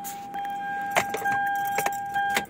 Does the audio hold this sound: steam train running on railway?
no